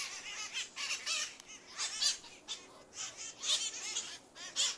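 A flock of about fifty wild parrots eating apples, squawking harshly in overlapping bursts close by, a busy chattering chorus with brief pauses between calls.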